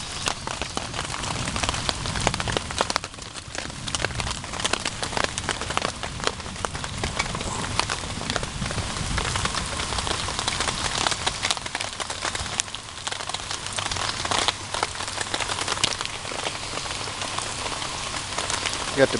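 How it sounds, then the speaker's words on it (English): Heavy rain pours onto a small shelter beside a lake, a dense, continuous patter of drops close by that stays loud and even throughout. "a lot of thunder going on and some heavy rains right now."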